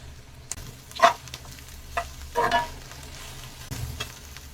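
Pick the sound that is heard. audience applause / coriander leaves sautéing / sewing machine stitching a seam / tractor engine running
coriander leaves sautéing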